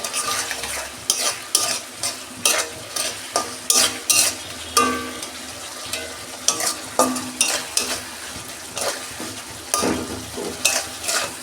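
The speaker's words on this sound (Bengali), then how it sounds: "মশলাটা আমি কষতে নিয়েছি" Spice masala for prawn malai curry fries and sizzles in a pan, stirred with quick, rhythmic spatula scrapes that repeat every second or so, close and fairly loud.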